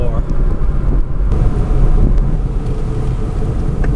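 A car drives with a noisy wheel bearing, a sticky brake caliper and a warped rotor, giving a loud, steady low rumble and road drone with wind buffeting throughout.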